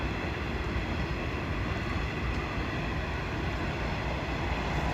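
An empty coal train on the line near Kayenta keeps passing in a continuous loud rumble of rolling railcars, broadband and unbroken for several seconds, with no talking.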